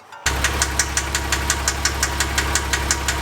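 A Porsche Cayman S engine starts and runs at idle close by, a steady low drone broken by a regular, evenly spaced knocking tick repeating about every quarter second.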